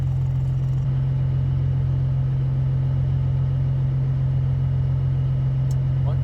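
Old diesel truck engine idling while being started on ether, a steady loud low rumble with a strong hum throughout and no pauses.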